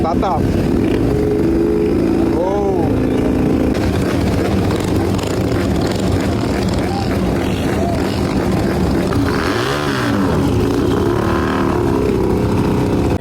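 Custom turbocharged Benda Chinchilla 500 motorcycle starting up and idling with a loud, constant engine drone close by, while people talk over it throughout.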